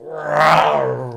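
A voice imitates a roaring car engine, a rising and falling throaty rumble lasting about a second, close and loud.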